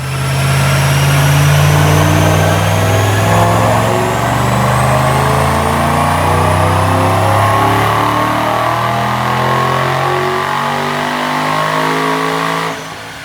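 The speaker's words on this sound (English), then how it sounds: "check out this dyno pull" A 2005 Ford Mustang automatic 3-valve fitted with a Paxton 2200 supercharger roars through a dyno pull, loud and close, its pitch climbing steadily for over ten seconds before cutting off at the end.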